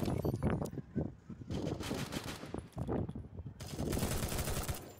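In the Free Fire MAX video game, a gun fires in rapid machine-gun bursts, loud and close, in several runs with brief pauses between them.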